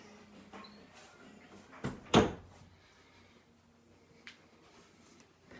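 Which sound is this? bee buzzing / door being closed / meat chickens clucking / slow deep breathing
door being closed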